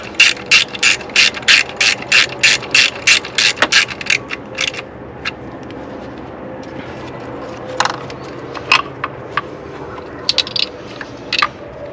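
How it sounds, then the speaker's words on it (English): A ratchet fitted with an 8mm magnetic socket clicks in a fast, even series of loud, close pawl strokes while fastening a bolt on a BMW N52 engine, then a few scattered clicks and light metallic handling. "Go with our handy dandy 8mm magnetic socket"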